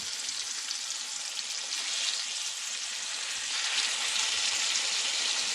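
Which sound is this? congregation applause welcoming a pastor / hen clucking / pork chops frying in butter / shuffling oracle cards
pork chops frying in butter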